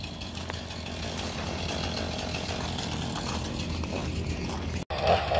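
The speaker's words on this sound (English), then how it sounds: "the husband's revving up a chainsaw over there" A chainsaw cutting a eucalyptus tree branch drones steadily at a distance, its engine rumbling and buzzing continuously through the whole stretch.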